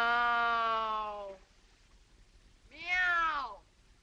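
A person imitates a cat's meow twice: a long drawn-out tone that falls away, then after a short silence a second, shorter and higher meow, both close and clear.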